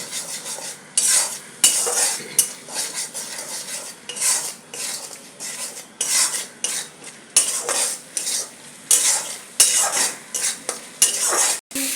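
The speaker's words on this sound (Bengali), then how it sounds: "মশলাটাকে ভালো করে আমি কষিয়ে নেব" Spice paste for a cabbage dish being stirred and sautéed, loud repeated metal spoon scrapes against the pan in quick bursts over a light sizzle, close up.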